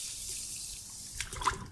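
Sugar, about half a kilo, pours into a bucket holding five litres of water for a fermented mix, a soft steady trickle that grows into a brief splashy pour near the end.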